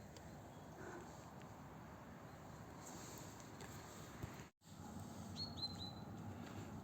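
Sparrows chirp outdoors on an autumn walk, a few short, faint high tweets toward the end over steady wind and outdoor background noise.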